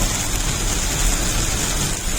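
Heavy rain during a Saturday drive, a dense steady hiss that fills the whole stretch with a low road rumble beneath it, constant and loud with no voices.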